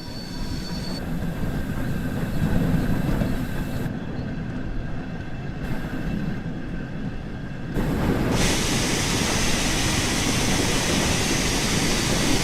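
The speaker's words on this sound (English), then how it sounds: "Use the combination brake to apply some braking force and bring the train to a stop." A train in a train simulator video game brakes to a stop, with a steady rolling rumble and metallic wheel noise that shifts partway through into a brighter, louder hiss, with no talking.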